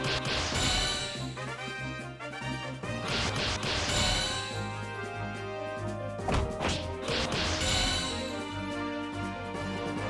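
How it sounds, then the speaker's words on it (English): Repeated smashing and crashing impacts as objects are broken in ChronoQuest, several heavy hits spaced a few seconds apart over a steady layer of game music, with no talking. "We're smashing everything,"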